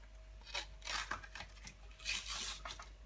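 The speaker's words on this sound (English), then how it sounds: "basically the sandpaper will rub on the contacts and just clean them up a bit" Cheap sandpaper rubbing back and forth over the contacts of a Sega Mega Drive cartridge, several short close scratchy strokes, faint and alone.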